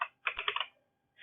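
Quick keystrokes on a computer keyboard, a short cluster of close, crisp taps followed by a pause and another tap, heard alone in a quiet room.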